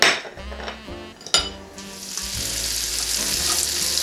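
Butter sizzles and fries loudly in a hot pan with pork loin, its steady crackle rising after a few clanks of utensils against the pan.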